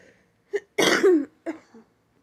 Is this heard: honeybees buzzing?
no